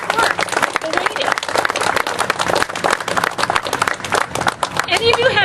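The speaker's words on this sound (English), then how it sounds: "let's give a round of applause to these folks" A crowd at a Democratic unity rally in Montpelier gives a round of applause, dense and loud clapping filling the whole stretch with a few shouts and voices mixed in.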